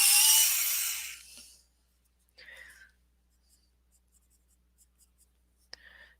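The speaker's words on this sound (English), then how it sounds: "Excuse my sharpener." A pencil sharpener grinds a colored pencil in a short close burst at the start. Quiet follows, with faint scratches of pencil on paper and a soft voice.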